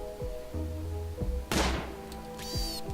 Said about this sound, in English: I hear a gun.